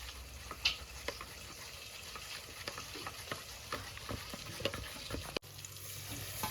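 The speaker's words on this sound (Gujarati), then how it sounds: "વઘાર નાખીએ" Spices for a vaghar tempering sizzle in hot oil, a constant crackling fry with frequent stirring clicks and taps, cut off abruptly before a quieter tail.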